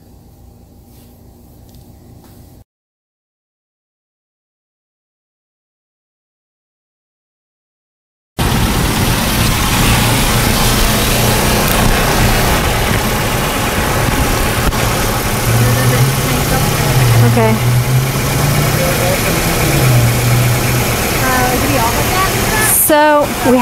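A 2004 Hyundai Elantra 2.0-litre engine idles steadily and fairly loudly after a timing belt, water pump and oil pump job. The sound starts abruptly after a short quiet gap, and a voice talks over part of it.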